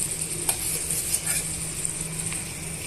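Sliced okra fries with tomato and onion pieces in a pan, giving a steady close sizzle with a few light scrapes of stirring.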